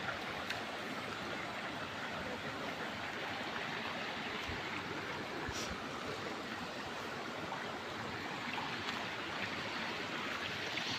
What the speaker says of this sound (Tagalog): so ito yung tubig na umaagos.